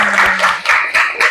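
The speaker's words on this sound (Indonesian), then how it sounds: "Yuk kita kasih aplaus untuk kelompok yang pertama." Audience applause for the first group of presenters in a classroom, a short burst of clapping from a group, moderately loud and steady with small surges.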